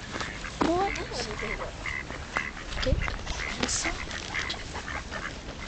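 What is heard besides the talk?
ducks quacking at a duck pond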